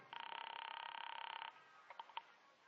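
A telephone rings in a 1949 detective radio drama: a faint, rapidly pulsing electric ring lasts about a second and a half, followed by a few soft clicks.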